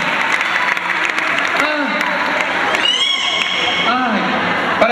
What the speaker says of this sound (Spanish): fuerte el aplauso para el señor camarógrafo